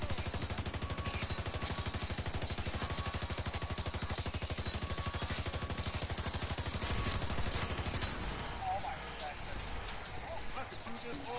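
Rapid automatic gunfire during a video game raid rattles in a dense, steady burst for about eight seconds, then gives way to scattered game noise, with players talking over the shooting.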